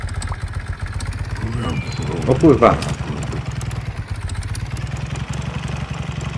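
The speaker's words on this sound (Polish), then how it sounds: "Ale fajny. Motorek." Motorcycle engine idling steadily in the farming video game Farmer's Life, a low throbbing rumble running throughout while someone speaks briefly over it.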